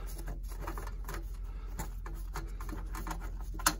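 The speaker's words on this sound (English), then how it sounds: "We're gonna unscrew this." A small screw top on an air purifier is unscrewed by hand, a quick series of close, light plastic clicks and ratcheting ticks at an even pace, with no talking.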